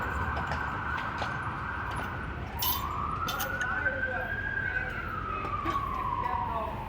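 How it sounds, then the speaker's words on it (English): An ambulance siren wails steadily in Savannah, its tone sliding up and then down, over constant background noise heard from inside a fire vehicle. "I hear an ambulance."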